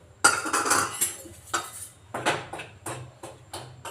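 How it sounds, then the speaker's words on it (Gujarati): Wheat flour being roasted in a spoonful of ghee in a pan on a gas stove, with repeated metallic scraping and clinks of a spoon against the pan in close, irregular bursts. "તેની ઉપર એક ચમચી ઘી ને એક વાટકી લોટ લોટને આપણે શેકી લઈશું"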